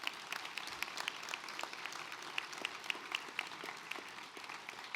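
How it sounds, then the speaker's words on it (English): Conference audience applauding at Geo-Resolution 2024, a dense, steady patter of many hands clapping throughout, moderately distant and sustained without talk. "so let's give her a round of applause."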